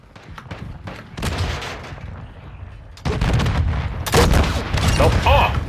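Dense, loud gunfire from a shooting video game in Gun Game mode, sustained bursts and booms that swell and intensify toward the end, with a voice briefly heard underneath.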